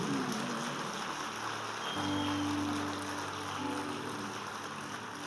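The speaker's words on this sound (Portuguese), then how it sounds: "Pode aplaudir Jesus" A church congregation applauds, a steady wash of clapping that fills the room and holds throughout, with sustained music tones droning underneath.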